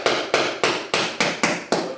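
A hammer striking repeatedly while hanging a picture on a wall: seven sharp, evenly spaced blows, close and loud, each ringing briefly before the next, with no talking.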